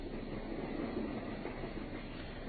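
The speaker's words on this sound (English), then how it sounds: "I think we've just time to catch our train at Paddington." Steady rumbling train noise for a radio drama set on a journey from Paddington toward Dartmoor, a continuous low rolling roar of carriages and wheels running evenly throughout with no voices.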